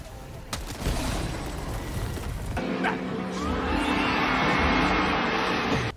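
An R-36 Eruptor explosive sniper rifle in the shooter Helldivers 2 fires with a sharp crack, followed by a loud burst and rolling blast noise that carries on for several seconds amid other game combat sounds.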